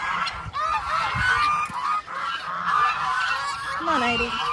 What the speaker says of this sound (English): Now he's going to feed the geese.